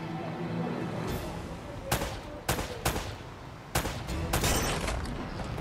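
Gunfire in Uncharted: Drake's Fortune: several loud, punchy shots in bursts, with some close together, over a dense, roaring game soundscape.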